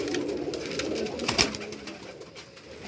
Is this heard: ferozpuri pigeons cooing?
yes